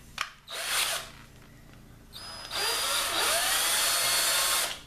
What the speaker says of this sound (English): Put it in my drill.